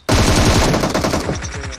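Automatic gunfire from a multiplayer shooter video game rips out in one loud, close burst of rapid rattling shots that trails off after under two seconds.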